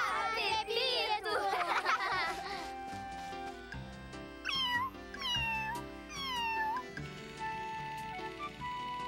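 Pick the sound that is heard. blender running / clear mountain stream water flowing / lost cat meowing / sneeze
lost cat meowing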